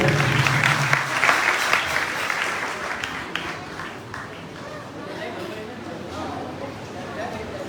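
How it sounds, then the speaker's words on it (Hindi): Audience clapping at a Krishna Janmashtami celebration in a Gwalior ashram, a dense burst of applause that fades into quieter clapping and crowd chatter. "भगवान कृष्ण की जन्माष्टमी है, मीठी मीठी ताली तो बजाएंगे"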